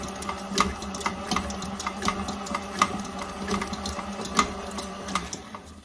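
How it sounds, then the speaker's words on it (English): A stand mixer with a paddle attachment beats butter for maple brown sugar cookies, a steady mechanical whir with rhythmic clicking knocks close by. "we are going to mix this in our stand mixer with the paddle attachment"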